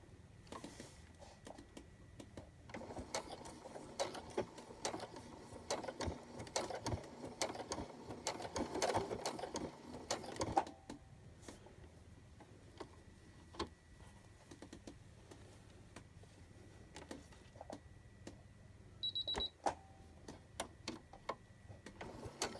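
A domestic sewing machine stitching a pouch made from a dishcloth, with a steady close mechanical whir that stops partway, then quiet handling and a short electronic beep warning that the presser foot is raised.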